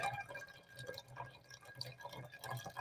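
Liquid runs fast through a ripped funnel filter, heard as quick, faint irregular drips and trickles that are close and continue steadily without talk.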